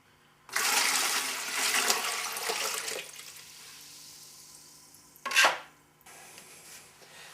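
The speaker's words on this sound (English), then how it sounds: "I'm about ready to dump another basin full of water into the yellow bucket" Water from a basin dumped into a yellow two-and-a-half gallon bucket gives a loud rushing pour of about two and a half seconds that tapers off, then a shorter splash follows.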